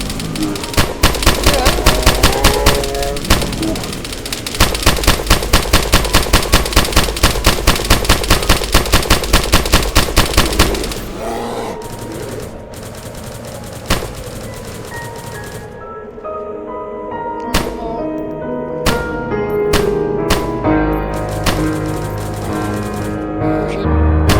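Loud, fast automatic gunfire from the DayZ video game hammers out in steady rhythmic bursts for about ten seconds, then gives way to scattered single shots and quieter sounds.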